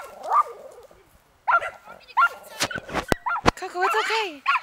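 A pet dog barks and yips at fireworks, a string of sharp close barks broken by loud firework bangs, with anxious voices speaking over the commotion.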